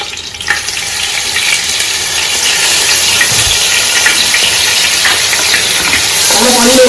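Small onions sautéing in a pan for Ambur-style mutton biryani, giving a steady, close frying sizzle with light stirring scrapes throughout and no talk.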